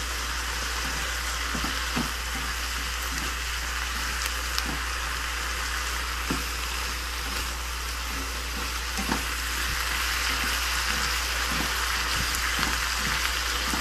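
Pechay and pork being stir-fried in a hot, smoking pan, a steady loud sizzle with faint periodic scrapes of a spatula stirring, close up and without talking.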